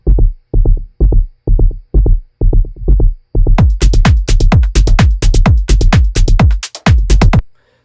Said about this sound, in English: probably my favorite of all of them is a knocky kind of style bass.